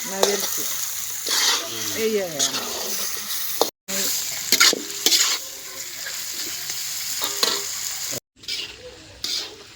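Chicken pieces sizzle loudly in hot oil in a pan over a wood-fired stove while making a 1 kg Telugu-style chicken fry, with steady frying hiss broken by scraping stirring strokes and two brief cutoffs.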